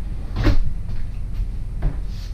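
Drawers slide and bump shut inside a 2020 Coachmen Mirada 35BH Class A bunkhouse motorhome, with two short close knocks over a steady roomy hum.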